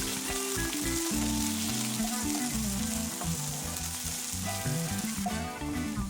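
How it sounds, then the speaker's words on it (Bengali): Diced potatoes with beans, peas and carrots fry steadily in a pan, a loud continuous sizzle with occasional stirring scrapes throughout, no voices. "আলুটা একটু ভেজে নেওয়ার পরে এবার এর মধ্যে দিয়ে দেব বিনস, মটরশুঁটি আর গাজর।"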